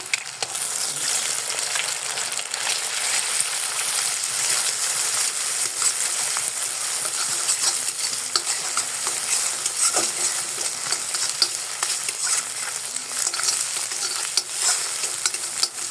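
An egg fries and is stirred in a pan for a noodle dish, giving a steady, close, loud sizzle with scraping stir strokes and small clinks throughout, no talking.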